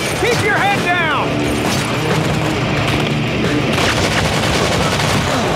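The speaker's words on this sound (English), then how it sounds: "We're taking fire!" Modern Combat 3 battlefield gunfire: bursts of automatic fire and booms mixed with shouted voices and a whistling sweep early on, dense and loud throughout.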